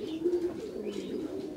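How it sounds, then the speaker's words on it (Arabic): Racing pigeons coo close by at their loft, a soft, continuous run of low throaty cooing with slight pitch wavers, alone and without talk. "حميمات هما كيدوروا على الدار"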